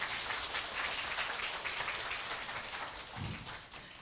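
Applause from a seated audience at a Korean Atomy business presentation, a steady, even wash of many hands clapping at moderate distance that fades slightly near the end.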